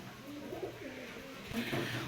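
A male racing pigeon coos softly in a low, rolling series close by, with loft background noise and faint talk around it.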